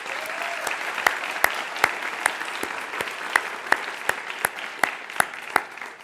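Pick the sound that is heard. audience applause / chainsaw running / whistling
audience applause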